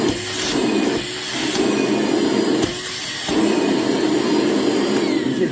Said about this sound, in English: So I can say the vacuum basically part is very powerful to compare to the blower area.